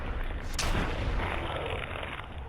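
Gunfire aimed at a glowing creature in Fallout 4, one sharp loud shot near the start followed by a long rumbling, echoing tail that stays dense and heavy throughout.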